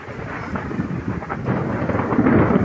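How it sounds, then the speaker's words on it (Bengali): Thunder rumbles over light rain near Bhuban hill and the East Dholai area of Silchar, a deep, steady, broadband roar that swells slightly louder toward the end, with no voices. "কি ভয়ঙ্কর ডাক বিজলির"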